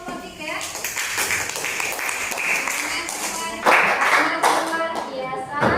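A classroom crowd claps and applauds steadily for a student group, a dense patter of many hands that swells louder near the end, with voices mixed in.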